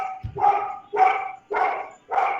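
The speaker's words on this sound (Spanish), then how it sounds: "pasa un perro y empieza a ladrar" A dog barks four times in an even rhythm, close and fairly loud, each bark short and sharp with a brief gap between.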